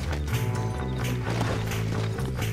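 A horse gallops in Red Dead Redemption, its hooves beating a steady, rhythmic clip-clop mixed with droning game sound throughout.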